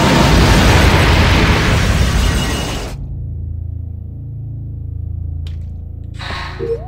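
A bomb goes off in the video game Carrier: a loud, full-range blast lasting about three seconds that cuts off into a low rumbling tail, followed by a short, faint mechanical swish.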